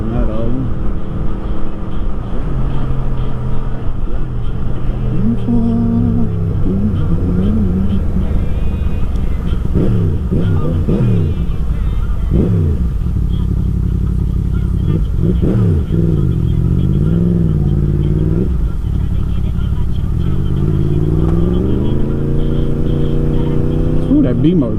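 Car engine fitted with a modified exhaust, droning and rumbling steadily while driving on a road, with revs rising and falling throughout and someone talking over it.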